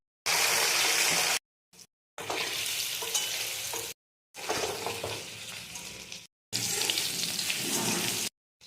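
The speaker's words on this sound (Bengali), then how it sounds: "তেলটা গরম হয়ে গেছে, এবার ভেজে নেব।" Turmeric-coated boiled vegetables fry in hot oil, giving loud bursts of sizzling and crackling, broken by several short silent gaps, with no talking.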